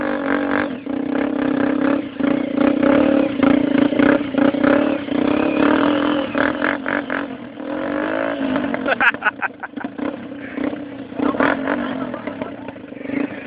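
An engine accelerates and revs hard, a loud, steady rasping roar that rises and dips over several seconds, with voices heard faintly alongside it.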